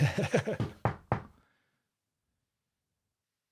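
Several quick knocks land in a rapid series, followed by two louder, separate raps, all close and crisp, then silence.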